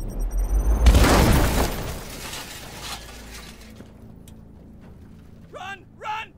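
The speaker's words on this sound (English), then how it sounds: "Good, let's knock them back with a holy hand grenade." Holy hand grenade going off in the strategy game Warhammer 40k: Chaos Gate - Daemonhunters: a loud, broad boom with a shattering burst that rumbles and decays over a few seconds, followed by brief voice-like cries near the end.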